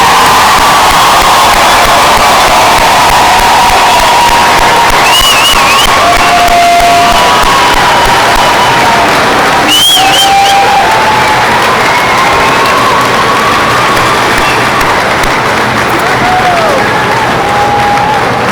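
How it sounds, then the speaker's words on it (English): Graduation crowd at a high school ceremony applauding and cheering loudly and steadily throughout, with whistles and whoops rising above the dense clapping. "Please give a round of applause for our class of 2019."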